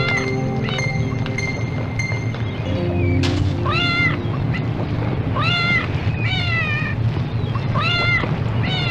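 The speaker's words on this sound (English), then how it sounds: "It just holds the cat and plays the same meow like 5 times." A cat in a horror film meows over and over, the same plaintive rising cry repeating about five times at steady intervals over a continuous low rumble, clear and close.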